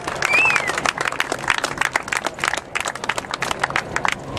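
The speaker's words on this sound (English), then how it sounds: "Another round of applause" An audience at an outdoor barbecue gathering in Cronulla claps for a speaker, with sharp, uneven individual claps that start strong and then thin into scattered, fading bursts, plus a brief whistle near the start.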